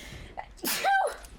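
A single close sneeze bursts out indoors during a Batman: Arkham Asylum game session, a short inhaled build-up followed by a sharp explosive release, with a faint game sound in the background.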